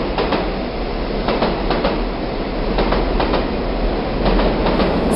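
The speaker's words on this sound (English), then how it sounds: "Subway." A subway train runs along the track with a loud continuous rumble and regular clickety-clack wheel beats, close and steady throughout.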